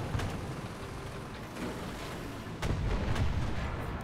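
Gunfire rattles at the player in a video game, a steady dense barrage of booming shots and crackling impacts, loud and close, with a heavier burst near the end.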